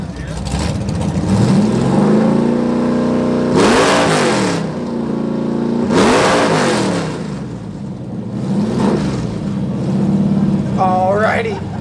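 Muscle car exhaust at an exhaust competition, revving hard in repeated bursts with rising and falling engine roar, loud and close, with a crowd and voices around it.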